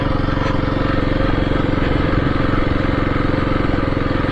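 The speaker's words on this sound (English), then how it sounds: "but the engine sure clatters" A small Kawasaki motorcycle engine clatters steadily at a constant pace, its mechanical rattle louder than its quiet exhaust, droning without a break.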